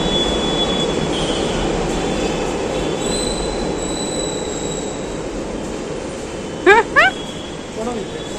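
A Delhi metro train runs through a metro station with a broad, steady rumble of carriages and rails, rising whistle-like squeals near the end, and faint crowd noise under it.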